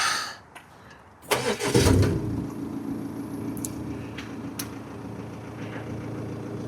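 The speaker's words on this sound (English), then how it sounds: "Start the car." An Audi Q5 engine cranks and catches near the one-second mark with a loud burst, then settles into a steady low idle, with a couple of faint clicks afterward.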